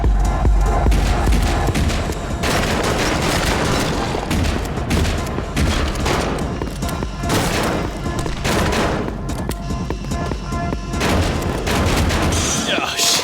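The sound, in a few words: gunfire from shooting in a video game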